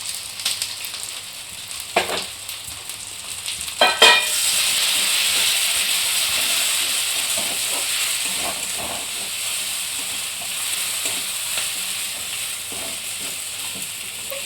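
Ground turmeric, cumin and black pepper frying in a hot pan: a few clatters, then a steady, fairly loud sizzling hiss that continues unbroken.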